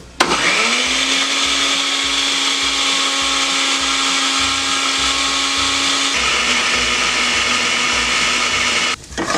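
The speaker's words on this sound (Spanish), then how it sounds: "Le agregamos sal y vamos a licuar" A kitchen blender runs steadily and loud for most of the time, liquidizing ingredients with added salt for a rice dish. Its motor whines at a constant pitch, shifts slightly partway through, then cuts off near the end.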